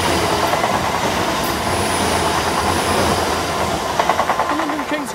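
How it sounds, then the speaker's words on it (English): A train passing on a British railway line, a loud, steady rumbling roar that fills the whole stretch with faint rhythmic wheel clatter near the end. "Train"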